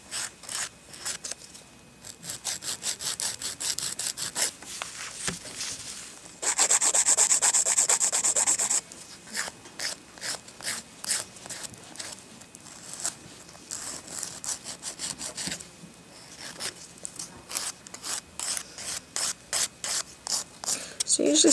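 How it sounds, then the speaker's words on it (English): Coarse nail file scraping across an acrylic sculptured nail on a plastic practice finger, close and dry, in steady rhythmic back-and-forth strokes with a few short pauses and one louder, denser stretch of rapid filing. "Start filing with the coarse side,"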